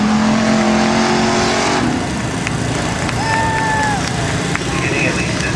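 A race car at an Arklatex track roars loudly and steadily throughout, a high engine whine holding and then sliding in pitch as it passes, with an announcer talking over the constant engine noise.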